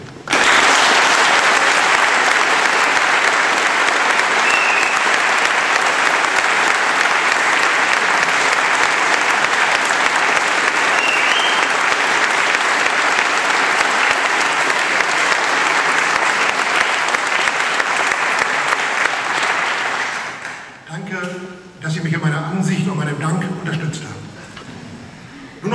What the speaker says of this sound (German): Ich möchte Sie hiermit um einen herzlichen Applaus bitten